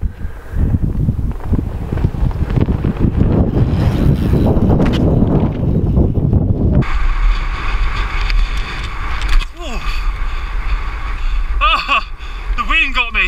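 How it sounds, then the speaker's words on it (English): Strong wind roars across the microphone at a hilltop urban mountain bike spot, loud and gusty, then drops into a steadier rumble with faint chirping sounds and some background noise. "the wind is unbelievable"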